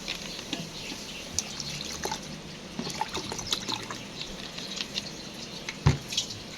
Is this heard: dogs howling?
no